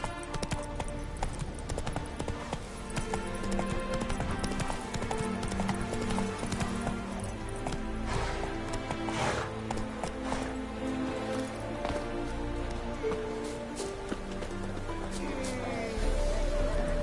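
A horse gallops in The Witcher 3 video game, its hooves clip-clopping in a fast, steady rhythm up close amid game music and ambience.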